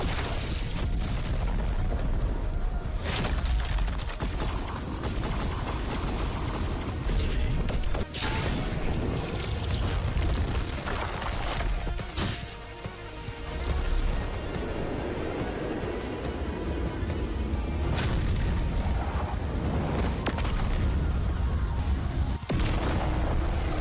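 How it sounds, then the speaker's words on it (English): Video game explosions boom one after another in a dense, loud, continuous roar of blasts and crashes, with a brief dip in the middle. "There's just some fun explosions."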